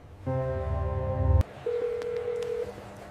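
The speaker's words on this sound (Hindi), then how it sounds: "जिला अधिकारी महोदया को कॉल कर रहा हूं," A mobile phone dials a call: a loud steady electronic tone ends with a sharp click, then after a short pause a thinner, quieter ringback tone runs for about a second, close and with no talking.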